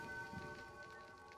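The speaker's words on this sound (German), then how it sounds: "Regnet und es schüttet." Heavy rain pours down at a tavern in The Witcher video game, a steady dense hiss of drops on surfaces, faint and continuous throughout with no voices.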